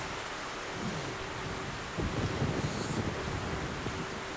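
Steady rain hiss with a brief rumble of thunder midway, soft and continuous, in the game Metro: Last Light.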